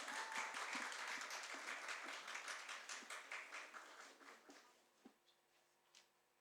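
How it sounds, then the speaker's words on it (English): Audience applause at an autism acceptance panel discussion, a dense, steady round of clapping that gradually thins out and fades, ending in a few scattered claps. "please, with a loud round of applause, welcome her to stage"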